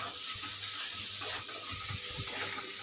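Potatoes sautéing in a pan with fish spices, ginger, cumin and chilli, giving a soft continuous sizzle with light stirring scrapes, close and steady, no voices.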